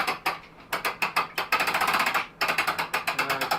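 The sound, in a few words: pulley hoist cranking Jeep Wrangler hard top up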